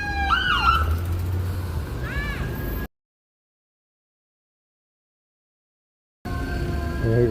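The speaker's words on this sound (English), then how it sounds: "And here comes the fire truck." A fire truck siren yelps and wails close by on a Los Angeles street during protests, with rapid up-and-down sweeps over engine noise. It cuts out to silence, then resumes with a steady tone.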